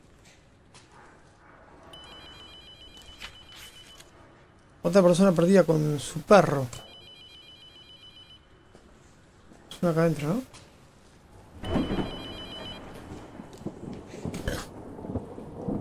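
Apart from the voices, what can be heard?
telephone ringing in video game Abandoned Souls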